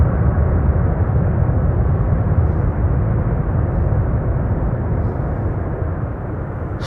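A Boeing 747 nicknamed the Queen lands at Amsterdam Schiphol Airport, its engines roaring steadily in loud reverse thrust, a broad continuous rumble that eases slightly toward the end.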